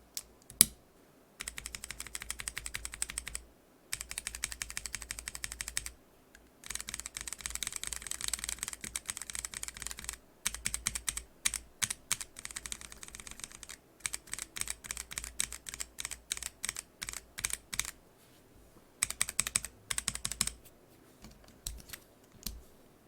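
A mechanical keyboard fitted with NovelKeys BOX Cream switches and keycaps is typed on in close, crisp runs of clacky keystrokes, broken by brief pauses, with no talking.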